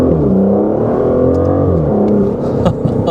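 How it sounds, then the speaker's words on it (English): An Aston Martin DBS Ultimate 770 engine revs hard at full throttle, a loud, sustained rising roar with shifting tones and a few crackles near the end. "Let's give it full throttle here again."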